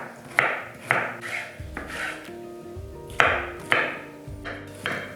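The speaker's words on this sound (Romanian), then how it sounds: "Legumele spălate și curățate le tăiem cuburi nu foarte mici." A knife chops washed, peeled vegetables into medium cubes, each crisp cut striking the board close by in an uneven rhythm of about nine chops, with no talking.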